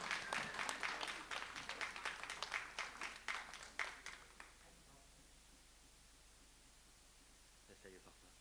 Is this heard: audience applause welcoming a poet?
yes